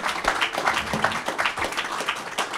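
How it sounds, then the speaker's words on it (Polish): Applause from an audience at a Polish lecture event honours a special guest, a professor. Dense, steady clapping from many hands continues without a break for a few seconds at moderate volume. "Jeszcze wcześniej brawa dla naszego gościa specjalnego."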